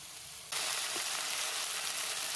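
Chicken sautés in a pan with ginger-garlic paste, coriander and mint, a faint sizzle jumping to a loud, steady crackle after half a second and holding there.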